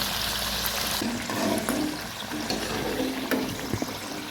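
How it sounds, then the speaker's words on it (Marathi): Puris for pani puri deep-fry in hot oil with a steady bubbling sizzle, and scattered clinks and splashes come as they are turned over. "दोन्हीकडून आलटून पलटून तळून घेऊया"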